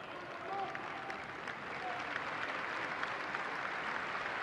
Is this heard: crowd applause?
yes